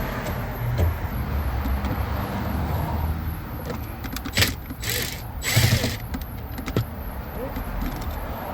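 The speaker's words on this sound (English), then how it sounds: "So there's a screw here. Another one on the other side. So we're going to remove that." Screw being removed from a 2007 Hyundai Azera dash panel, with steady close mechanical ratcheting and small clicks over a continuous background noise and no talk.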